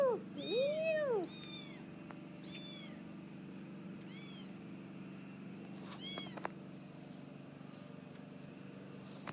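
Several kittens meow close by in high, bending cries: a loud burst at the start, scattered squeaks after, and another cluster a few seconds later, over a low steady background hum.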